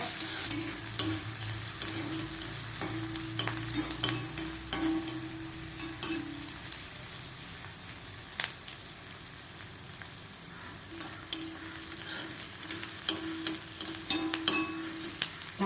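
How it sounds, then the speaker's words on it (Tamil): Sliced bitter gourd stir-frying in a pan for a Tamil-style fry, giving a steady sizzle broken by repeated scrapes and stirs that ease off midway and then resume, close and moderately loud with no voices. "கொஞ்ச நேரம் பிரௌனாக வந்த கொஞ்சம் லேசாக வதங்கினா போதும் ரொம்ப வதங்கணும்னு அவசியம் இல்லை"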